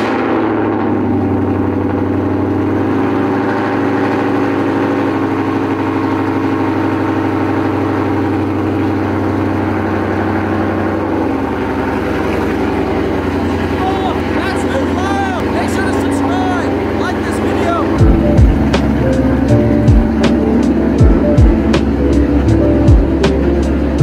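A supercharged car engine hums steadily from inside the car during a drive, rising in pitch as the car builds speed, with a few sharp knocks or clunks near the end.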